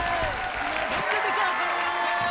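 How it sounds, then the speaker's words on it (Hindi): Studio audience applauding the winners at a televised folk-art talent show finale, steady clapping running under a host's loud, excited announcing voice. "जोरदार तालियां, आपकी तालियां बजती रहे।"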